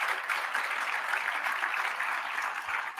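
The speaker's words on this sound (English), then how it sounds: "Let's give Nelly Gorvey a round of applause." Audience at a Latino leaders luncheon giving a round of applause, dense steady clapping from a sizable crowd in a room, lasting a few seconds with no talk over it.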